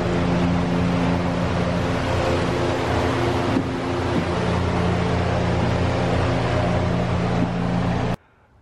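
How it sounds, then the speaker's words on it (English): A compressor in a lumber drying kiln runs steadily with a constant mechanical hum and whir, loud and close, holding unchanged for several seconds before cutting off abruptly near the end. "While the compressor kicks in and starts to remove the moisture from the air."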